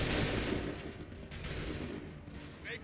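Musket volleys ring out in a battle in the video game Assassin's Creed 3, a dense, rumbling fusillade of overlapping shots at some distance that rises and falls over a few seconds.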